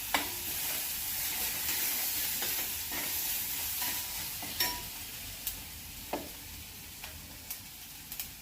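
Garlic and green chili sizzle steadily in a hot pan for a wild-vegetable dish, with a constant frying hiss and a few sharp pops and ticks of a stirring spoon toward the end.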